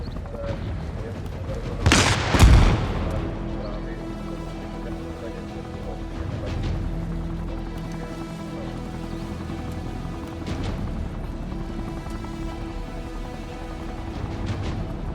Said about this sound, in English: He's throwing a nade.